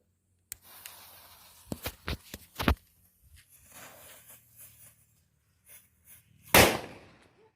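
A disco happy flower firecracker crackles and pops in a rapid series of sharp bursts, followed by scattered fizzing and a final loud bang near the end, heard outdoors and close.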